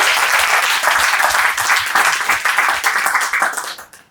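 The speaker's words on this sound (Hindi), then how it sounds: "तो इस पे ताली बजी।" Audience applause during a business plan presentation, loud, dense clapping from a crowd that holds steady for about three seconds, then fades out at the end.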